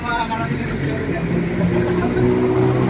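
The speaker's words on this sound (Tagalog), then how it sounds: "ito yung motor ni sir. Papakita ko sa inyo ang takbo." A motorcycle with a hard-starting and vibration complaint runs steadily nearby, a continuous loud engine drone with a slight rise in pitch toward the end.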